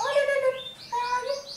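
A lovebird gives bright, piercing chirps and rising whistled calls, two quick phrases close to the listener.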